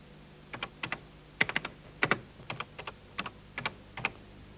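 A computer keyboard being typed on while a BASIC program is entered, with about a dozen quiet, crisp keystrokes in short bursts separated by pauses and no talking.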